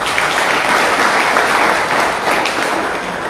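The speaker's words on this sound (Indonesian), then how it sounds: "Tepuk tangan buat Tuhan." A church congregation claps together in a steady, full round of applause, loud and sustained throughout.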